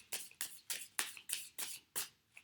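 Rhythmic bursts of tarot cards being shuffled, about eight quick riffles in a steady pattern, close and crisp with no talking.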